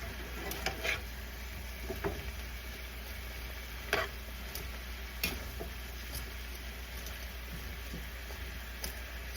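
Ground turkey in a pan gives off a steady low sizzle, with occasional sharp ticks and scrapes from stirring scattered through it, fairly quiet and without talk.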